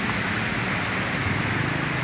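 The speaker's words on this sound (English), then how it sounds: "Lots of rain." Heavy, steady downpour from tropical storm Kirogi hitting the ground in Cha Am and Hua Hin, Thailand, a dense continuous hiss that is loud and close.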